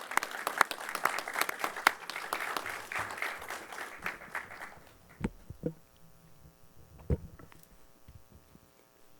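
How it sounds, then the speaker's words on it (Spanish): An audience in a judicial forum hall applauds to welcome a speaker, a faint burst of clapping for about five seconds that tapers into scattered claps and quiet room noise. "Reciban, por favor, con un fuerte aplauso"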